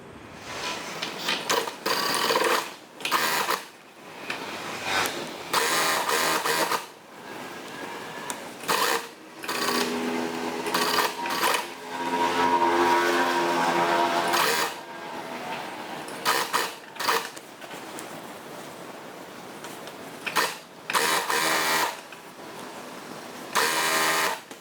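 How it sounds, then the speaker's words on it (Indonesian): Stop-start runs of a sewing machine stitch the side seam of a child's half-circle dress from the sleeve end, with close, steady whirring bursts broken by short pauses. "saya jahit mulai dari ujung lengan ini samping."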